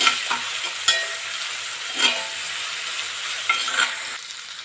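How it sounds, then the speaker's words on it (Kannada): Mint leaves fry for a chicken fry in a hot pan, a steady soft sizzle broken by a few sharp scrapes of a spoon stirring, close and without voices. "ಸ್ವಲ್ಪ ಪುದೀನ ಸೊಪ್ಪು ಹಾಕೊಳ್ಳೋಣ. ಸ್ವಲ್ಪ ಫ್ರೈ ಮಾಡ್ಕೊಳ್ಳೋಣ."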